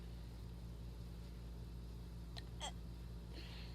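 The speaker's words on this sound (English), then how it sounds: "I hate hiccup burps." Two quick hiccup burps from a person, short and close together, over a steady low engine-like hum.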